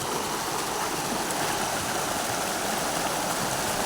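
Water rushing steadily along a stream channel controlled with sandbags, a loud, even, continuous flow close by with no talking.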